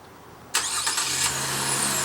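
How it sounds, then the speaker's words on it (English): Remote start of a 2015 Chevrolet Colorado pickup with a 3.6 L V6: quiet background, then the engine abruptly cranks and catches, settling into a steady, fairly loud idle heard up close. "here's how you do the remote engine start"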